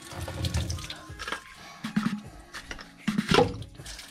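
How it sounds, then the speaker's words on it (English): Water floods out of a Pelican Dosatron chemical feed injector under repair, irregular splashing and gurgling spurts, close and fairly quiet, with a louder gush near the end. "That all comes out with a nice flood of water."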